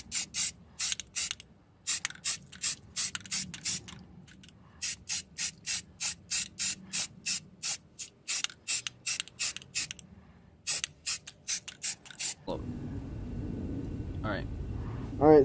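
Bursts of spray paint are laid onto a vehicle frame undercarriage as a first coat of primer, a long series of short, loud hissing pulses close by, followed by a steady low rumble at the end.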